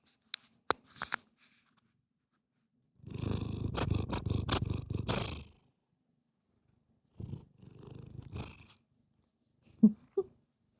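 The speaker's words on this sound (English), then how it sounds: "Should we tell the people about your purr?" A pet cat purrs in two long rumbling stretches, close and fairly loud, with a few short clicks and faint sounds at the start and a brief higher sound near the end.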